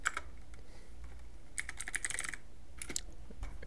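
Typing on a computer keyboard during game-mode settings changes on a PC, with a short burst of keystrokes at the start, then dense clusters of close, crisp clicks later, with no voices.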